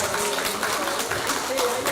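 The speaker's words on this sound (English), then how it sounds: "please give them a round of applause" A symposium audience claps in a dense, steady burst of applause, with voices mixed in underneath.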